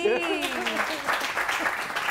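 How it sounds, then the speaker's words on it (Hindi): A studio audience on a morning TV show applauds in a steady, even wash of clapping, just after a brief voice at the start. "तालियां भाई।"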